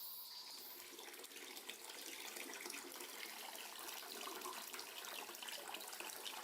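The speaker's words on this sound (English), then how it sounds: "Water is hot, so you add cold water from a tap." Cold water runs steadily from a tap into hot spring water, a continuous hissing splash that stays even and fairly close, with no voices over it.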